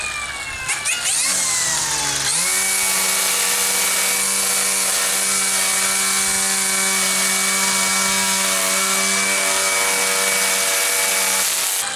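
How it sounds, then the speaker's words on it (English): An electric string trimmer motor whines steadily at high speed for several seconds after a brief rev-up, loud and close, with no talking. "Got my weed eater here"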